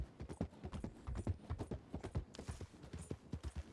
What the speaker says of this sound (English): You can fall off your horse here, but it's not a big deal, just get back on.